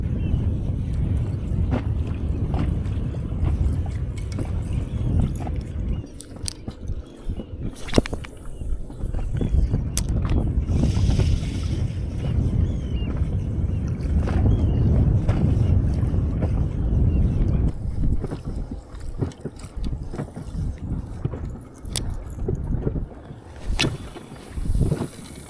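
Cold wind gusting hard across open inland sea water around a small inflatable fishing boat, a continuous roaring rumble with buffeting microphone noise and occasional knocks.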